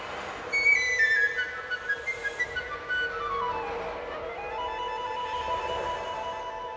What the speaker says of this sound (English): Now let's hear the flutes making the sound of wind rushing through the treetops.